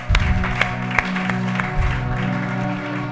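A church congregation claps in uneven, scattered applause over a low sustained organ or keyboard drone, moderately loud and close.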